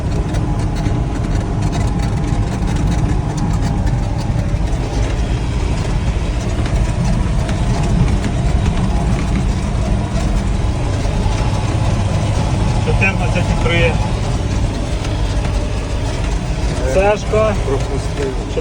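A 140 hp John Deere tractor engine pulls a 3 m Lemken Karat cultivator across stubble in fourth gear, producing a steady, loud, low diesel drone that continues throughout with little change. People speak over the engine noise.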